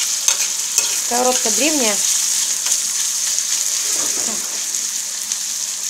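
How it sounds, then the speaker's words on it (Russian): Onions sizzle steadily in a hot pan while being stirred, a constant bright hiss throughout, with a short spoken remark partway through. "размешиваем лучок"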